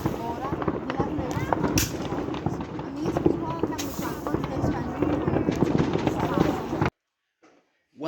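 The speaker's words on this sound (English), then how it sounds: "We've seen a lot of fireworks and even got some sparklers and set off ones." Fireworks crackle and pop in rapid irregular bursts on bonfire night, fairly close and loud, with people's voices mixed underneath, before the sound cuts off abruptly near the end.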